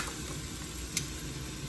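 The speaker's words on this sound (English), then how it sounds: "now we're just going to throw the fish into the pot piece by piece" Pieces of fish drop into a pot of simmering stew, where a faint, steady sizzle carries a single short splash-like hit midway.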